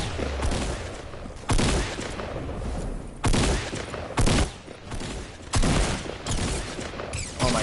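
Rapid bursts of gunfire in Fortnite Battle Royale, played on a PS4 Pro, come in about six loud, sharp volleys spread evenly, with short quieter gaps between them.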